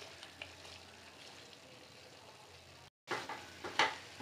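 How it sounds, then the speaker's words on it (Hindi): Chicken frying in a pan with ground cashew paste for a curry, giving a steady soft sizzle and crackle through the clip, broken by a brief silent gap and followed by louder sizzling bursts. "काजू पेस्ट के साथ मैंने चिकन को 2 मिनट फ्राई कर लिया है।"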